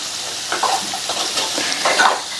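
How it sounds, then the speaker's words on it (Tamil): Mixed vegetables with slit green chillies fry in a pan as they are stirred, a continuous close hiss and sizzle with soft scraping strokes of the spoon, no voices. "இப்போ நல்லா மறுபடியும் மிக்ஸ் பண்ணி விட்டுறலாம்"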